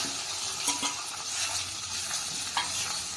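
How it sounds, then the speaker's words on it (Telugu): Tomatoes, onion and green chillies fry in a tempering for an old-style perugu charu, a soft continuous sizzle with occasional spoon stirs and light clinks against the pan. "టమాటాలు కూడా వేసుకున్నాం కొంచెం వేగనిద్దాం"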